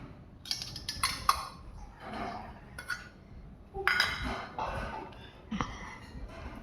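Dishes clink as fried eggplant is served into a bowl: several light, scattered taps and knocks of tableware spaced irregularly in an otherwise quiet room.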